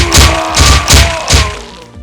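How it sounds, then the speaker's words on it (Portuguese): Four heavy thunks land in quick succession, each a sharp impact with a short decay, as a volley of arrows strikes a solid target. "um monte de flechas o atinge."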